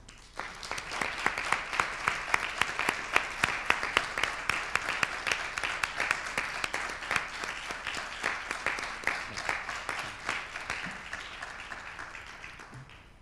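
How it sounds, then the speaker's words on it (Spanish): Audience applause after a long lecture runs steadily for about thirteen seconds: dense, sustained clapping from a seated crowd, with the odd louder individual clap standing out. "Pero el aplauso en realidad es para ustedes también, ¿o no?"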